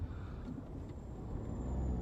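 Low, steady rumble of traffic noise at roadworks, heard from inside a car, a continuous broadband drone filling the cabin with no talk.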